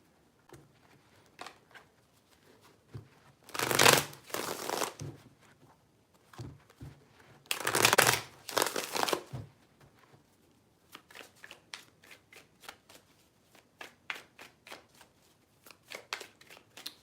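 A deck of tarot cards being shuffled up close, with two loud riffling bursts followed by a run of lighter flicks and taps as the cards settle, no voices.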